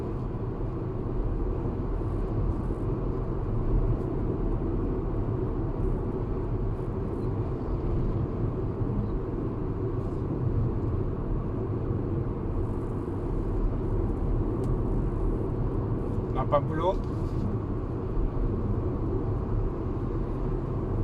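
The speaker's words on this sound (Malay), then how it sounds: "bunyi dia datang daripada tayar. Bukan daripada angin daripada tayar." Steady low rumbling road noise inside a Proton X50 moving at about 70, a constant broadband hum from the tires with no talking.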